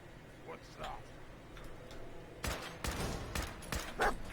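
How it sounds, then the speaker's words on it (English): Grenade explosions in the Fallout 4 video game burst in a rapid cluster of sharp, loud blasts over a murmur of game sound, following a quieter stretch with faint background noise. "Oh, goddamn grenades."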